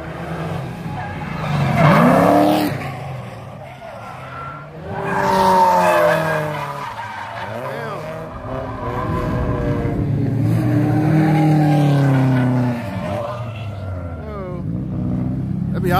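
A Mazda Miata drifts at a night touge event, tires squealing and skidding in long sweeping wails as the engine revs, loud and close, with people talking over it.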